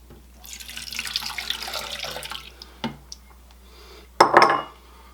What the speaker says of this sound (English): To that, we're going to add a cup of milk,